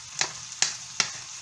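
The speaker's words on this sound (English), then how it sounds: "And then I'm going to add it to the sauteed vegetables" Saltfish added to sautéed vegetables for ackee and saltfish, a gentle sizzle broken by three distinct scraping strokes in the pan at an even pace, close and clear without talk.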